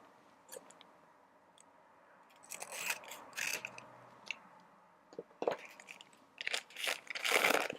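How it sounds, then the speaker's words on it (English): Scissors snip and crunch through a nail mail package, with crinkling wrap between several bursts of close cutting, quiet pauses between, no talk. "Hold on, scissors required."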